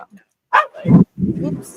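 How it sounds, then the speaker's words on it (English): A pet dog gives a couple of short barks close by in a quiet room, overlapping with a person talking nearby. "that was my dog."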